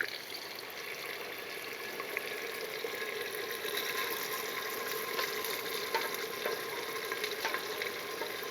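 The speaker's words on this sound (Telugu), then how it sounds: "ఇది వేసేసుకొని వేయించుకుందాం." Ground masala gravy, pounded in a stone mortar, fries in oil in a pan for a paneer butter masala biryani, giving a steady, close, dense sizzle with faint stirring and no voices.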